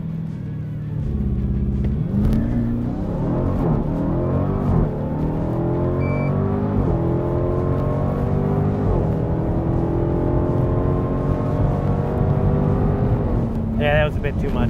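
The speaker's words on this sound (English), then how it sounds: "So I'm gonna go back to using launch control at like 2200 RPM," A 2021 Dodge Durango SRT launches at a drag strip using launch control, its engine roaring loud and rising steadily through the gears for over ten seconds, with a voice speaking over it near the end.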